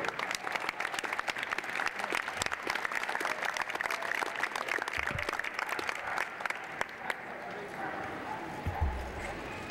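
Audience applause honoring a police department K9 officer at a recognition event, steady dense clapping with a few cheers, loud and sustained throughout with some voices mixed in.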